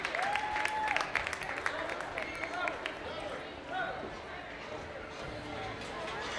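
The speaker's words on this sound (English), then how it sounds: "Let's have a big round of applause for our FFA champion." Crowd applause at a livestock show for the FFA champion market hog exhibitor, a burst of clapping that tapers off under ongoing chatter and arena noise.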